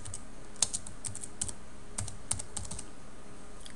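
Keystrokes on a computer keyboard while entering text for a banner in Flash MX, a sparse run of light clicks with a few sharper taps, close and quiet, with no talking.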